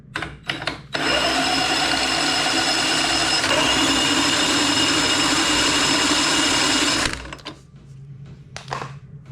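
A power drill spins a diesel motorcycle's alternator charging setup, giving a loud, steady whirring drone that runs continuously for about six seconds before cutting off, with faint handling noises around it.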